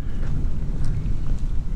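Steady low rumbling buffets of wind gusting across the microphone, with no voices.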